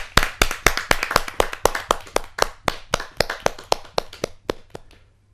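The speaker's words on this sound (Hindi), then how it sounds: "जोरदार तालियों के साथ हम नंद किशोर जोशी जी का स्वागत करें।" Steady, evenly spaced hand claps welcome a poet at a Hindi poetry gathering, crisp and close, repeating for several seconds before slowing and fading out.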